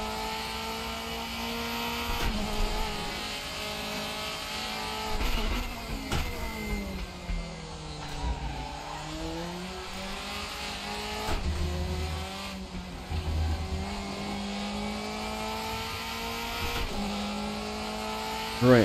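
Engines of 2005 DTM race cars at Hockenheim in a sim racing game snarl continuously for the whole stretch, pitch rising and falling through gear changes and braking dips, loud and steady with no talk over it.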